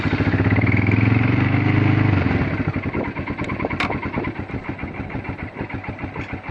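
Small gasoline engine with a fuel valve, started on choke during a rainy day in Texas, running loud and rough, then settling into an uneven, pulsing idle with a sputtering rhythm.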